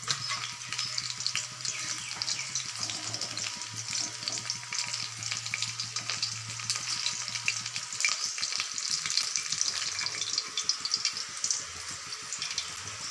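Rohu fish pieces sizzle steadily in hot oil in a kadai, a dense continuous crackle with occasional stirring clinks and a low hum underneath, close and fairly loud throughout.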